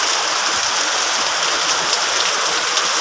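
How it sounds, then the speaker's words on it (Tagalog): Heavy typhoon rain pours down in a dense, unbroken hiss, loud and steady throughout with no pauses or voices. "ang lakas ng ulan"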